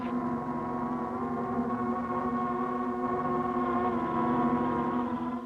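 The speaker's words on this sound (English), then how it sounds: "That's the sound of an insect invasion." A steady, dense droning buzz holds at a constant pitch throughout, loud and unbroken like a swarm hovering close by.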